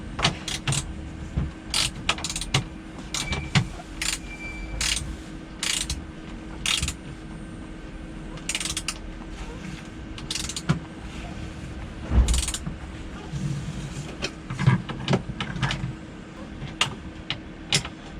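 Repeated sharp ratcheting clicks from a ratchet wrench tightening a bolt on a 6x6 Perentie ambulance, in short bursts, with metallic clanks and a steady background hum, close by and moderately loud.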